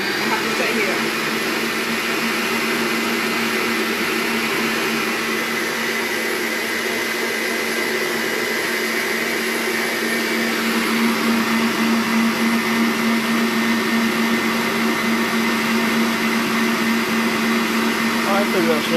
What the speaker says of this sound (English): I can't move away from it because you don't want to over whisk it as well.